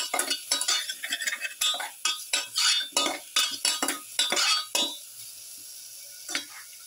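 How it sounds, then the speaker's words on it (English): Turmeric powder is stirred into a fish stew base in a pan, a spoon clinking and scraping in quick repeated strokes that are close and crisp, then stop, leaving quiet room tone. "Put in a quarter spoon of turmeric powder. Thoroughly mix."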